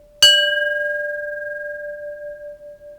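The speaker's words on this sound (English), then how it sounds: "So this is a beautiful personal bell." A personal bell is struck once with a new striker, giving a sharp metallic strike followed by a clear, steady ringing tone that sustains and slowly fades with gentle beating, close and alone.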